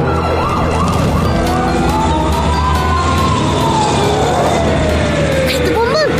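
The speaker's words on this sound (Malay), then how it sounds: "Kereta bomba." A fire engine siren wails loud and close, rising and falling across a dense bed of traffic noise, with people talking over it.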